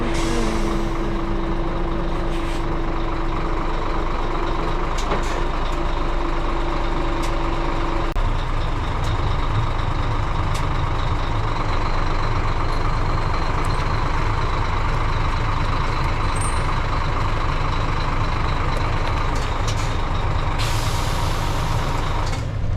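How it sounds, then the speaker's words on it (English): Coach bus fitted with snow chains idling loudly and edging forward and back, with an engine rumble, a steady tone early on, and a hiss of air brakes near the end. "I'm just going to move the bus forward and back a little bit"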